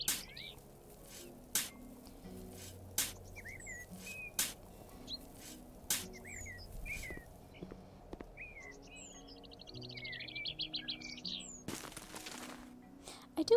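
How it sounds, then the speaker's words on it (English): Ambient birdsong from the video game House Flipper: scattered chirps and short trilling calls, fairly faint, mixed with soft clicks and light background tones. "I do enjoy the bird noises in this."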